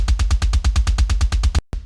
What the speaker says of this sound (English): So just the raw kick from the actual plugin sounds like this.